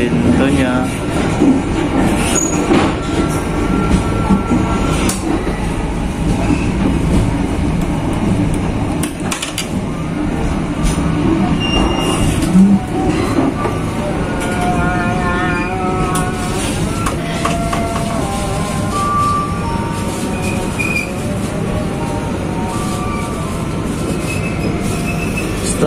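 The Cikuray passenger train, running from Kiaracondong to Jatinegara, rolls on rails with a continuous loud rumble, squealing wheels and rattling, heard from inside the carriage as someone speaks over it.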